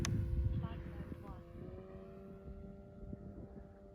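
A Hanger 9 Carbon Cub 15cc petrol RC plane with a 90-inch wingspan drones at half throttle with a steady, faint, distant hum under wind, with a low voice briefly at the start.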